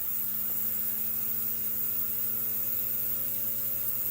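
A reassembled Kato GP35 model locomotive motor runs under load at 9 volts, giving a steady, unbroken electric hum with a faint buzzing edge, constant in level throughout.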